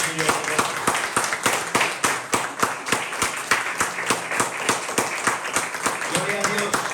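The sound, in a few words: applause in a church service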